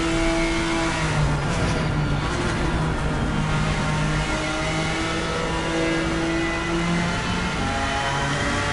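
A BMW GT3 race car in Assetto Corsa Competizione at Silverstone roars steadily as it accelerates, its engine note sustained and loud throughout with no talk.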